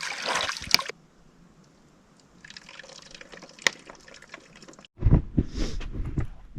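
Water being scooped and poured from a tadpole-filled pond while refilling on a backpacking trip, with drips and splashes, a quieter trickling stretch, then louder close splashing and filling near the end.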